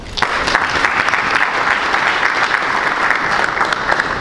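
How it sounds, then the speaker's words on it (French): An audience in a hall applauds after a central bank vice-governor's speech, with dense, steady clapping that stays loud and even throughout, no voices over it. "Et je vous demande de les applaudir"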